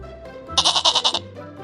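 A goat lets out one loud, wavering bleat that pulses about half a dozen times and lasts roughly half a second. Nothing else is heard, and no one speaks.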